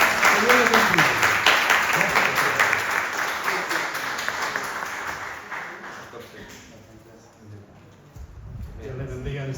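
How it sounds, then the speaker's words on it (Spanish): Church congregation at a Wednesday evening service applauding the Lord: loud clapping with voices that gradually tapers off over several seconds, followed by quieter room sound. "demos un aplauso al Señor, porque Dios es bueno con todos ustedes"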